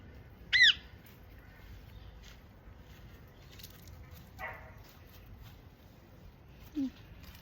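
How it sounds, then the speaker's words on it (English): A goose near water gives one loud, close squawk, then a fainter rustle and a short low honk several seconds later, over a quiet outdoor background with no talking. "Come on, you mad bird. Come on, come have a drink."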